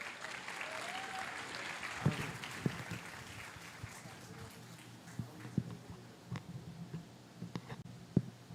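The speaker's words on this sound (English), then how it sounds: "give your biggest round of applause for Satya!" Audience at a React conference applauds a speaker, a steady wash of clapping at moderate distance with a few sharper individual claps standing out.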